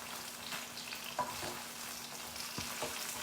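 Honey garlic paneer cubes fry steadily in a pan after being flipped, a continuous soft sizzle with a few brief scraping stir sounds, close and moderately quiet, with no talking.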